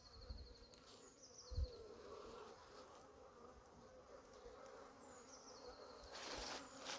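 Defensive honeybees buzz around an open hive in a dense, low drone with occasional louder passes close by, with no one talking.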